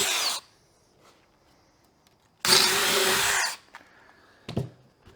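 A power drill bores holes in wood, whirring loudly in two separate bursts with a quiet pause between them, followed by a few short clicks and knocks.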